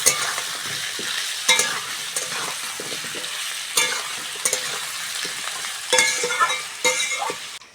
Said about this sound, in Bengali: এবার কেটে ধুয়ে রাখা আলুগুলো দিয়ে দেবো